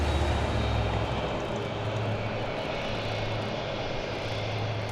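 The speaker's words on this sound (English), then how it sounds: "Here comes that flight on its way to Las Vegas." A departing airliner bound for Las Vegas climbs out from DFW Airport, its engine roar a steady, loud broadband rumble with a low droning hum underneath, holding constant throughout with no voices.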